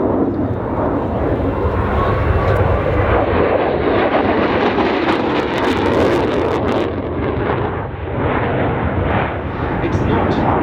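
A Saab AJS-37 Viggen jet fighter roars loudly and continuously overhead at an airshow, a dense, rumbling engine noise that fills the whole stretch without letting up.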